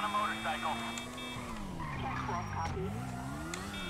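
A motorbike in Grand Theft Auto V revs with a rising and falling engine whine, joined by a tire skid partway through, fairly loud and close.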